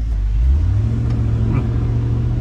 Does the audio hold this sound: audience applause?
no